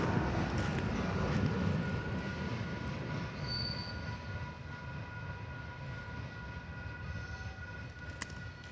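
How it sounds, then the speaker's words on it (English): A BNSF freight train rolls past close by on the rails with a continuous rumble of wheels and clatter from the cars. A faint, thin squeal rises briefly partway through, and no one speaks. "Here's the end of that train,"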